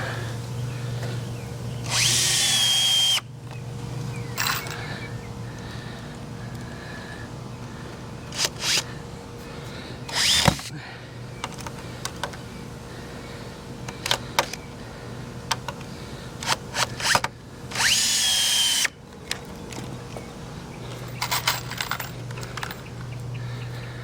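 Short bursts of a Festool power drill driving screws, a few whirring runs spaced apart among scattered clicks, taps and handling noises, with no voices.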